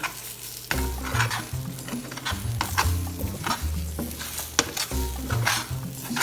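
Scrambled eggs with milk and pepper stirred in a frying pan, a loud close sizzle with repeated scraping and tapping of a utensil against the pan in an uneven rhythm.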